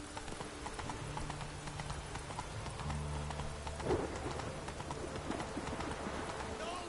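Hooves of Roach, a horse in The Witcher 3 video game, clip-clop in a steady rhythm, with birds cooing in the background and a brief vocal sound partway through.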